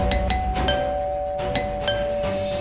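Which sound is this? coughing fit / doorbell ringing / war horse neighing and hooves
doorbell ringing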